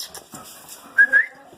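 A dog at home gives two short, high-pitched whines in quick succession, close by, over faint room noise.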